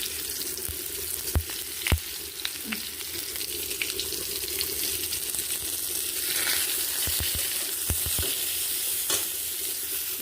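Turmeric-coated ridge gourd pieces fry in oil in a village kitchen, giving a steady close sizzle punctuated by sharp clinks and taps of a utensil against the pan.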